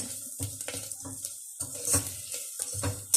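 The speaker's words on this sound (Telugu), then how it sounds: "ఉల్లిగడ్డ ఇంకొంచెం ఉల్లిపాయలు ఫ్రై అవ్వాలి." Chopped bottle gourd and onions frying in a pan, a steady close sizzle broken by scraping and clattering stirring strokes.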